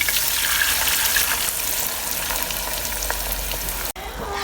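Jaggery syrup cooking in a pan, a bubbling, watery sizzle that runs steadily before a brief sharp break and a quieter simmer.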